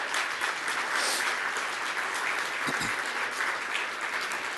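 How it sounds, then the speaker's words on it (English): A dinner audience at a 2018 leadership award dinner applauds steadily and loudly, a dense, even wash of many hands clapping that holds for several seconds without a break. "a round of applause for our trustees"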